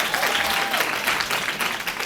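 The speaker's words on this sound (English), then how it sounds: "Can we please give her a round of applause?" A room of attendees at a Women's History Month celebration breaks into steady, full applause, a continuous dense clatter of many hands at fairly loud level throughout.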